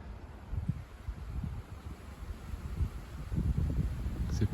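Strong east-northeast bise wind storming over Lake Geneva, a steady low roar of gusts buffeting the microphone, swelling slightly toward the end with no voices.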